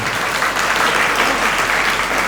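An audience at a sermon claps in a dense, steady burst of applause, continuous and fairly loud with no pauses.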